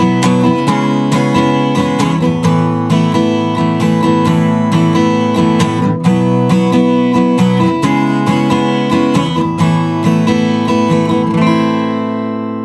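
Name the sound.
guitar chords strummed, song bridge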